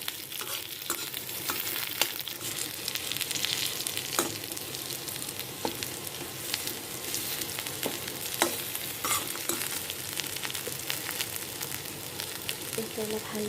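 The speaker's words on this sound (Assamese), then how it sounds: "এইখিনি অলপমান ভাজি পেলাই মই আলুখিনি ঢালি দিম।" Boiled potatoes frying in a pan with onions and being stirred, giving a steady close sizzle broken by repeated scraping stirs, with no talk.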